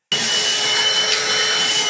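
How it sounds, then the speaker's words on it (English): A vacuum cleaner starts abruptly and runs with a loud, steady whooshing roar close by, no voices over it. "the same shark comes in with a vacuum cleaner to wreak havoc"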